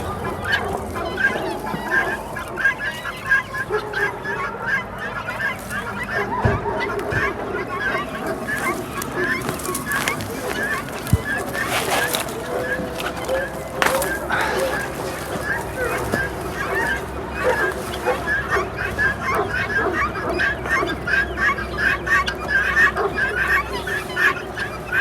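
Guinea fowl call repeatedly, honking and clucking at close range in a busy, overlapping chorus that runs the whole time.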